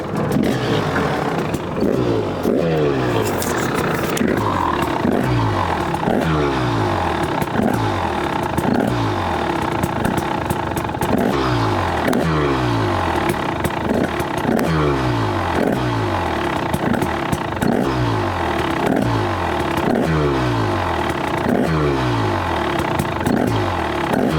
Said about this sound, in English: take the bike off a cold start and give it a couple of revs, see how it sounds